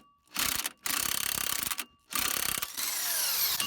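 A wrench works a tight nut off the driver-side CV axle of a 1996–2007 Dodge Grand Caravan. Loud ratcheting clicks come in two long bursts with a short pause between them, then turn into a steadier metallic rubbing whir.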